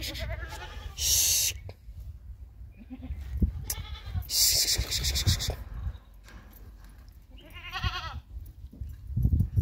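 A goat, kept for milking in a household setting, bleats loudly in several wavering calls close by, with some shuffling and thumps between them.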